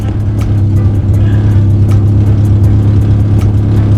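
A Honda Civic with a loud open-header exhaust rumbles hard at close range, a deep throbbing idle with a steady pulse that swells slightly as it revs, with no talk.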